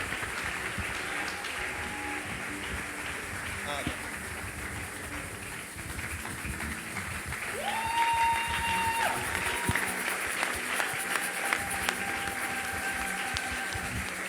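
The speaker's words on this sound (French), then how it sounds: "On acclame pour le Seigneur." A church congregation applauds and cheers for the Lord during a service: a dense, steady wash of clapping that swells partway through, while sustained keyboard-like tones sound beneath it.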